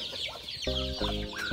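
Chickens cluck in short, throaty bursts, several birds close by calling one after another with brief pauses between calls.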